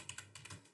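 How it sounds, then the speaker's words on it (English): Several quick keystrokes on a computer keyboard as a command is typed into a terminal, producing soft, close clicks in an uneven rhythm with no voices. "in here I'm going to type incus"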